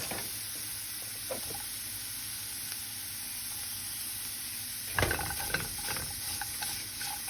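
Steady crackling sizzle of onion, garlic and ginger frying in hot oil in a pan for Goan black chana ros, with louder scraping stirs and bursts of spatter toward the end.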